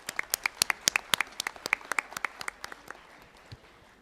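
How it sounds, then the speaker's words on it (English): A conference audience of CA students claps after a valedictory address, giving a round of sparse, distinct hand claps that thin out and fade over a few seconds, fairly close and moderately loud with no one talking. "A huge round of applause again for SB Zaware sir."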